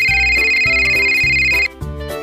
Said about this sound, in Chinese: 弗朗西斯还是接到了催他归队的电话